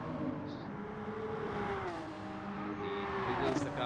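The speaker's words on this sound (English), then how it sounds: "He wiggles the car a little bit to warm his tires up." A race car idles and revs in short bursts on track before qualifying as the driver weaves to warm the tyres, heard from on board as a steady, loud engine drone with rising and falling pitch.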